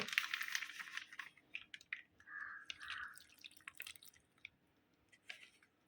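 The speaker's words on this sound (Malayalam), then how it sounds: "അപ്പോൾ ആവശ്യത്തിനുള്ള പാൽ ഒഴിച്ചു കൊടുക്കുന്നുണ്ട്" Milk trickles and drips into a bowl of wheat flour dosa batter in a quiet kitchen, with soft splashes and a brief steady pour in the middle.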